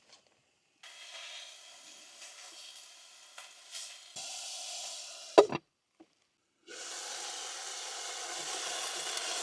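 Steady sizzling of food frying in a pan, with bursts of hiss that cut out briefly and return louder, plus a sharp clatter midway.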